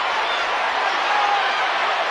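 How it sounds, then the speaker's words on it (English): Spectators at the Claressa Shields vs Lani Daniels boxing match buzz in a steady crowd murmur. The broad, even roar holds at one level throughout with no distinct cheers standing out. "Crowd getting buzzed"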